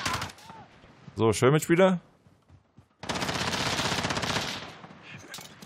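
Automatic gunfire from a Call of Duty: Modern Warfare match, a sustained loud burst of rapid shots lasting about two seconds after someone speaks briefly, with faint fainter pops around it.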